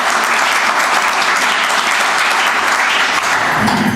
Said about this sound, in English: So we'll give them a round of applause.